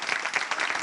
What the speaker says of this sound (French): Allez, on l'applaudit